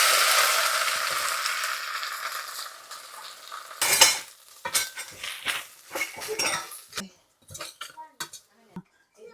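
Grated coconut frying with ginger in a pan for Onam inji curry: a sizzling wash opens the clip, then a spoon scrapes and clinks against the pan in quick irregular strokes, close and fairly loud.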